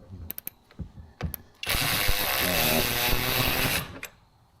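Power ratchet wrench spinning off nuts on the rear strut of a Porsche 718 during a lowering spring installation, a few sharp clicks and taps, then a loud continuous whirring buzz for about two seconds, heard up close.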